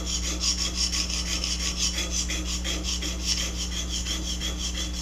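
An ice pick is rubbed up and down in the diamond groove of a GATCO Diamond TRI-SEPS sharpener, giving a continuous rhythmic rasping scrape with regular back-and-forth strokes, close and alone.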